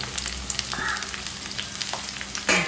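Chopped onion, green chili and curry leaves frying in a pan for an egg roast, a steady close sizzle with occasional stirring scrapes and no talk.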